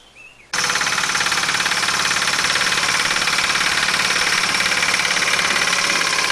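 A tractor engine runs steadily and loudly at close range while logs are loaded for building a log cabin, its rough, even drone starting abruptly after a brief quiet moment and continuing without a break.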